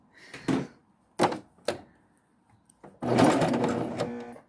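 A sewing machine runs a special tunnel-style stitch on jacket fabric. A few short, separate bursts come first, then a steady, loud run of stitching lasting over a second, close up.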